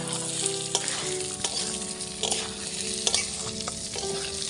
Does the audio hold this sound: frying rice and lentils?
yes